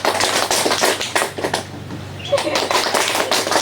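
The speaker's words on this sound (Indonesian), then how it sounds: "kita mulai tepuk tangan biasa dulu" Indoor audience at a pre-marriage education workshop clapping at a normal pace: a dense patter of many hands, steady and fairly close, with a brief dip in the middle before it resumes.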